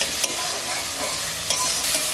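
Masala paste being stir-fried in a karahi for an egg kadai bhapa, a steady close sizzle with brief spoon scrapes and stirring clatter about every second.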